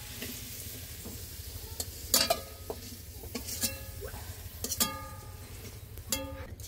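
Potatoes for chicken curry fry in oil in a pan on an old earthen stove, a steady sizzle broken by four or five scraping bursts as they are stirred.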